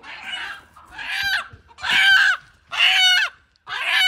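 A native country rooster gives five loud, squawking clucks, evenly spaced and close by, with short silences between them.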